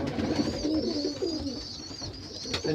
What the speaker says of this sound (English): And they are good pigeons.